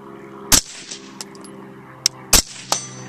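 Gunshots from a BCM 11.5-inch short-barreled rifle, several sharp, loud reports in an uneven sequence, close, with quieter mechanical clanks between them.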